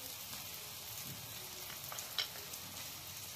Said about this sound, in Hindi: इसे हमें अभी 2-4 मिनट के लिए और भूनना है।